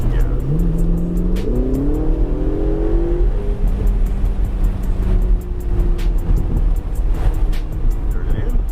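Ferrari on a track pulls hard through rising revs and shifts up, the engine note climbing in steps before settling into a steady drone, with a voice talking over it.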